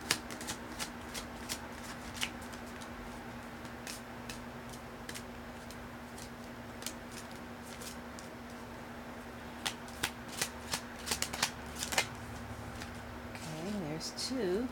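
Tarot cards being shuffled and drawn, with repeated crisp riffling bursts and sharp card snaps close by over a faint steady hum, growing busier toward the end.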